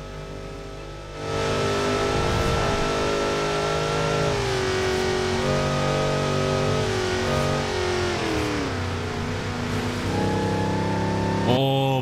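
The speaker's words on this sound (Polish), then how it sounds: "Ze środka brzmi fajnie, bo słychać ten kompresor, posłuchajcie." A supercharged car engine in Forza Horizon 4, heard from inside the cabin, revs steadily and loudly with a high supercharger whine riding over it, pitch rising and falling as it accelerates, continuous for most of the clip.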